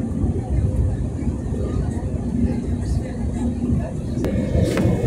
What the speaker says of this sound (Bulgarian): И сега самолетчето захожда.